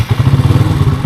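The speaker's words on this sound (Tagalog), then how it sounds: "Biglang nagwa-wild yung aking RPM, no? Para siya nagto-throttle na ganito." The engine of a Rouser NS125 Fi motorcycle, which has a fault that makes it throttle up by itself, runs loud and close with a rapid pulsing rhythm as the revs swell and dip on their own.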